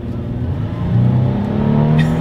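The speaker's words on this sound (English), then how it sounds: "Let's go ahead and do a quick little acceleration test here in our 2020 4Runner" A 2020 Toyota 4Runner accelerating hard, its engine drone rising steadily and growing louder over a couple of seconds, heard from inside the cabin with no talking.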